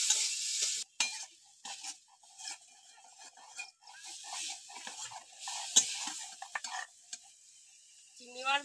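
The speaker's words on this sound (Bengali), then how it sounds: "লবণ আর হলুদ দিয়ে চিংড়ি মাছটা ভালো করে ভেজে নেব।" Shrimp frying with salt and turmeric in a pan, a close, crackling sizzle broken by repeated scraping and clattering as a utensil stirs the pan.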